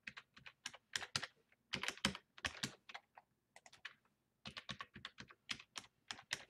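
Password being typed on a computer keyboard for a Skype login, with quick clattering keystrokes in uneven bursts and brief pauses, close and fairly quiet with no talking.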